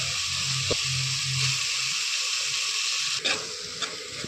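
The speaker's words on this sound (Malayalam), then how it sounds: "നമ്മൾ സവോള ഇട്ട് വഴറ്റാൻ പോവാണ് കേട്ടോ" Sliced onions sizzle in hot oil as the base for a Kerala-style chicken curry with kudampuli, a steady bright hiss that flares briefly near the end, with no talking.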